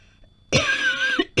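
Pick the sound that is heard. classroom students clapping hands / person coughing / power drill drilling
person coughing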